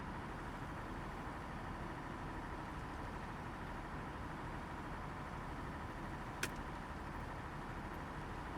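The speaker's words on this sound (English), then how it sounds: "No wonder why Stuarty uses this truck quite a lot" A truck engine in a video game runs steadily at idle, a continuous low rumble that holds at an even level throughout, with a single brief click partway through.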